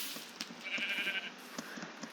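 Sheep bleat in a Minecraft survival game, one drawn-out, wavering bleat in the middle of the clip over soft clicking game sounds, with no talking.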